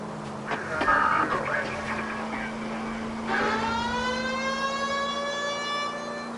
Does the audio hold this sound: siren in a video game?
yes